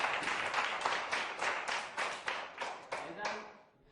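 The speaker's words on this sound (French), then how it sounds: "Bravo, on applaudit." Schoolchildren in a classroom clap together in a short burst, a quick cluster of rhythmic hand claps close by that fades out after a few seconds.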